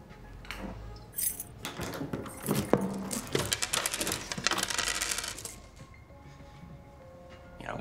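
Keys jangle and clink in a domestic drama scene, a cluster of bright metallic rattles that rises over a few seconds and then fades, with no talk over it.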